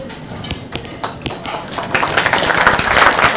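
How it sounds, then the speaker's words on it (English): Audience at a luncheon breaking into applause, starting with a few scattered claps and swelling into fuller, steady clapping by the end. "Was that for me you're clapping?"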